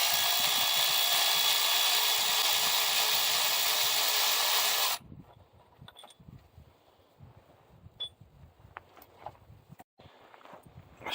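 A power tool runs continuously for about five seconds while loosening the last bolt on an Allison MH3000 transmission of a coach in the cold outdoors, then cuts off, followed by scattered metallic clanks and handling noises.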